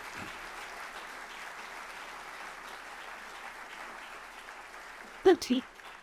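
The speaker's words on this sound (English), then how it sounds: "So a big hand of applause" Steady applause from a crowd, a dense patter of clapping that holds evenly, ending with a few louder knocks near the close.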